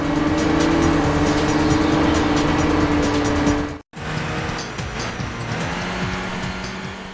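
Rally car from the PS2 racing game Enthusia Professional Racing driving a desert track, a loud sustained engine drone with a steady high whine, briefly cutting out mid-clip before resuming with a lower, rougher engine note and tire noise.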